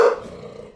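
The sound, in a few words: dogs growling and barking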